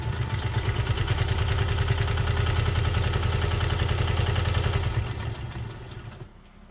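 A Singer 128 sewing machine running and sewing, a fast steady mechanical clatter close by that winds down and stops near the end.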